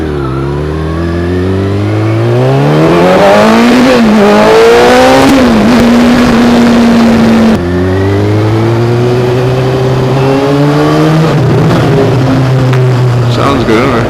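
A Kawasaki ZX6R 636 sport motorcycle engine revs hard and close, its pitch sweeping up and down in two long loud runs with no talk over it.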